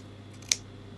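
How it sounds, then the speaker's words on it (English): Scissors trim excess fabric from a curved waistband while a full circle skirt is being sewn. One crisp, close snip cuts through a quiet background. "just take a scissors and trim it off"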